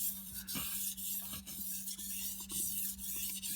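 A kitchen knife is stroked back and forth on a sharpening stone in a close, steady rhythm, with about seven gritty rasping passes in quick succession and no talking.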